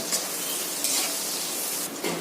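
Medium onions and garlic frying with a pinch of salt in a pan, a constant hissing sizzle with a few brief stirring scrapes, close and steady.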